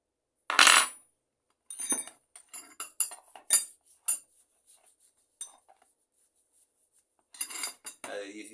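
Metal combination wrenches, a Dowidat 12 mm and a Raselli 16 mm with worn chrome, clinking and clattering as they are handled and set down on a workshop bench; sharp separate metallic clinks between near silence.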